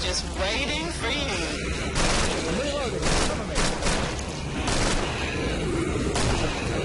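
Rapid bursts of gunfire from the video game Killing Floor crackle and boom almost continuously, dense and loud, with players talking over the shooting throughout.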